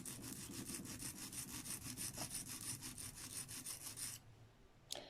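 Steel lino printing tool rubbed back and forth flat on a sharpening stone, giving a steady rhythmic scraping of about a dozen close strokes that stops near the end, followed by one small click.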